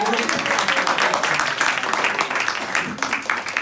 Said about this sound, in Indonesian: Beri tepuk tangan yang luar biasa buat Ibu Rita.